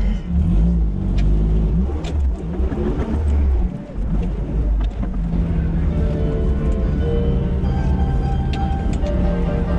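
A life-size Tonka monster truck engine rumbles loud and close, revving and surging as it drives, steady throughout with a brief dip partway.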